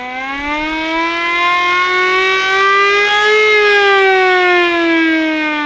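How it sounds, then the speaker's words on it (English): A loud, close siren sound effect drones on a single rising-and-falling wail for several seconds, rich and buzzy, with nothing else around it. "That's the party siren."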